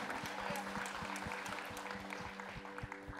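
A church congregation claps along during a sermon, a soft, fairly distant patter of many hands over a low, steady hum from a sound system.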